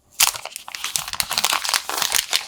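Plastic packaging on a Black Shark 5 Pro phone crinkles and crackles close up in a dense, continuous run of rustling and crumpling.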